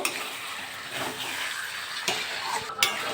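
Chicken pieces stirred through a thick gravy in a pan, a close, continuous wet scraping and shuffling with a couple of sharper knocks near the end, no voices.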